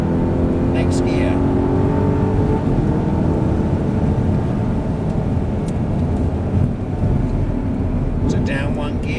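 An Audi R8 engine drones loudly and steadily from inside the car as it is driven on a race track, with a voice coaching over the constant engine noise.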